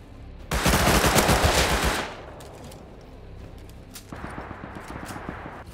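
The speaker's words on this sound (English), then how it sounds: "How many guns was that just going off at once?" Many guns fire at once in a video game: a loud, dense burst of rapid gunfire for about a second and a half, then a quieter stretch, and another fainter run of rapid shots.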